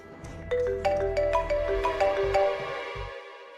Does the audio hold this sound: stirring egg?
no